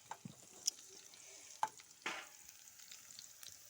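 Garlic and onion frying in a pan at home, a quiet, steady sizzle with a few sharp spits and pops rising out of the low crackle.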